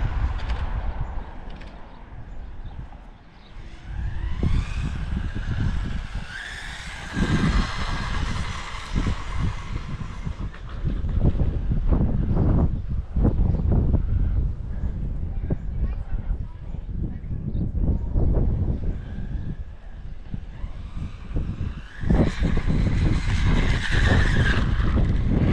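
A cheap junk RC car drives, with a buzzing little motor, skidding, and gritty rumbling across the ground in bursts for the whole stretch, while someone talks over it.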